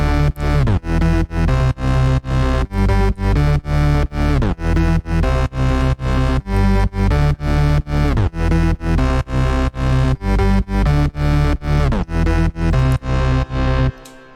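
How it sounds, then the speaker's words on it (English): A layered progressive house bass drop in FL Studio, with a D-Blue Type Stop plugin adding a pitch-bend effect. Loud, dense bass pulses pump in a fast, even rhythm, and a brief bend down marks the end. "it has an effect like a pitch bend."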